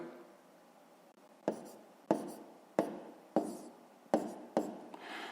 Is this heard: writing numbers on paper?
yes